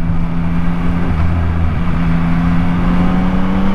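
Yamaha MT-09 motorcycle engine pulling hard under acceleration with a quick shifter, recorded on board on a road, a steady loud engine drone with a shifting low tone and constant wind rush, no voices.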